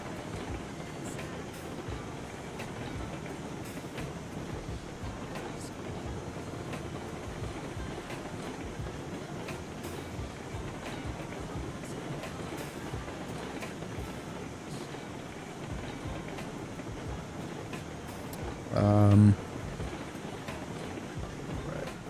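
A full coal train rolls along the rails in the video game Railroads Online, a low steady rumble and clatter that carries on evenly throughout, with one brief louder burst near the end.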